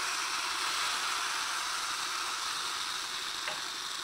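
Banana pancake batter spread in an oiled frying pan gives a continuous, even sizzle with a bright hiss, close and steady for several seconds, with no speech.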